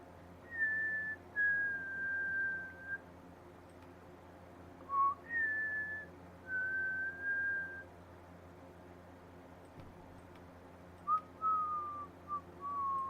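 A person attempting to whistle produces three wavering, breathy whistled phrases separated by short pauses, each made of a few sustained notes, heard over a low steady background hum.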